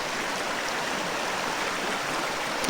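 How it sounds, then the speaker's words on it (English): A shallow stream rushes and splashes over rocks in a steady, close, continuous wash of water with no other sounds. "If we look at this water, we can see some of this water is caught up right here on this rock."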